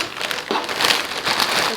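Plastic packaging around a silky straight HD lace wig, 32 inches and 250 density, crinkles continuously as it is opened up close, with dense rustling bursts and no voices.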